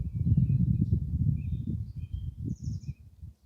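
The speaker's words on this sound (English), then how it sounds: "you can hear all the birds in the trees." Birds chirp in short, faint calls from the trees outside a garden polytunnel, heard over a louder low rumbling background.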